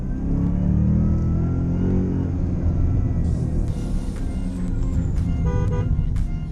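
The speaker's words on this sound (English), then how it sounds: "Oh, downshifting." A 2022 Shelby GT Premium in Sport Plus mode revs loudly as it downshifts through the paddle shifter, its deep engine rumble swelling and then climbing steadily in pitch from close inside the car.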